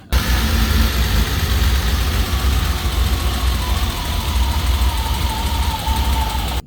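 A BMW E30 engine runs steadily at idle, a continuous low rumble with a faint whine on top, loud and close, with no speech.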